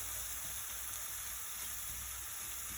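A steady, quiet sizzle of curry powder and turmeric frying in a pan, with a soft, even crackle throughout and no talking.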